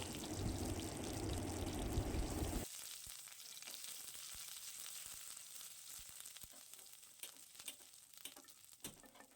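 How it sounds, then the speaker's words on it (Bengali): Green chillies, nigella seeds and chopped ginger hit hot oil with a loud burst of sizzling that drops after a few seconds to a steady crackle, with scattered pops and stirring scrapes. "এবার দেবো 2 থেকে 3টে কাঁচা লঙ্কা দিয়ে ভালোভাবে"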